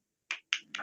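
A tepuk semangat clapping chant in a school lesson: three sharp, close claps in an uneven rhythm, quiet and with no voices.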